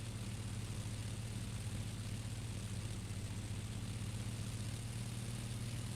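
Simulated Spitfire Mk.I engine at full throttle and full RPM in X-Plane 10, a steady low droning roar with a constant hum, unbroken and fairly quiet throughout.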